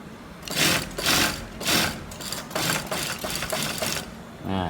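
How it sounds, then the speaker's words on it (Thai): A sewing machine stitches closed the bottom edge of a men's shirt collar in several quick, rattling bursts separated by short pauses, close and clear. "แล้วก็เย็บปิด เย็บปิดข้างล่างด้วย เย็บปิดคือเย็บชิดริมเลยนะ"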